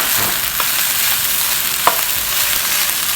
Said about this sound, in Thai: Today I make a fried rice by hand.